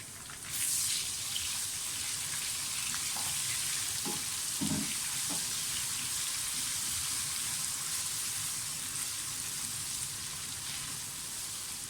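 Garlic-ginger paste dropped into hot oil with whole spices and onions for aloo tahari, a steady loud sizzle and crackle up close, with a few soft stirring knocks in the pan.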